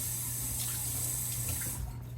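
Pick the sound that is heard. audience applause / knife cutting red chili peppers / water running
water running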